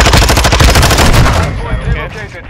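Loud rapid automatic fire from a Vaznev rifle in a shooter game rattles in a fast, even burst for about a second and a half, then trails off into echoing tail and fainter shots.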